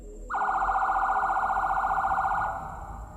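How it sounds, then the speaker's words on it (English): A single loud siren wail rises abruptly and holds a steady, warbling tone for about two seconds before fading out over low background rumble. "I woke up to the sound of sirens echoing through the neighborhood."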